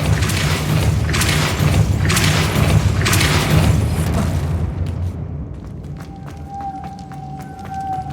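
A Depulso spell cast in Hogwarts Legacy bursts out as a loud, booming whoosh with repeated thumping surges for several seconds, then drops away into quieter ringing magical chimes and a sustained tone.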